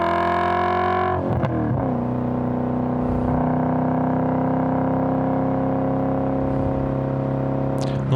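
BMW E39 M5 with its V8 engine, a steady loud drone while driving, a brief rev change early on, then a sustained even hum.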